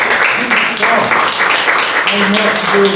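A church congregation applauds God during a service, a steady dense wash of clapping that fills the moment while a voice speaks over it.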